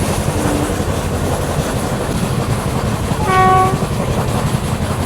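Aboard a Konkan Railway express, the Mumbai–Madgaon Konkan Kanya Express rumbles past in a loud, continuous roar, with a single short horn blast partway through.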